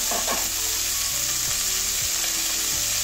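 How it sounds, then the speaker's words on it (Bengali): Cauliflower and potatoes fry in a pan over medium heat, a constant bright sizzle with occasional scraping knocks of a spoon stirring; no talking. "লাল লাল করে ভেজে নেবো মিডিয়াম আঁচে"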